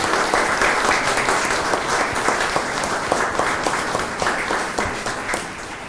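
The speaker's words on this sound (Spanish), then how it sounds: "Un aplauso a nuestro Espíritu Santo." A congregation at a Pentecost Sunday Mass claps together, a full, lively round of many hands echoing in the church space, steady throughout with slight swells.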